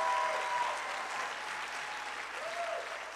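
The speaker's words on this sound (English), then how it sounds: "Come on, let's give a round of applause for Lady Jacques." Church congregation at a pastor's birthday celebration applauding, a brief continuous round of clapping at moderate distance with a few voices and a whistle-like cheer mixed in.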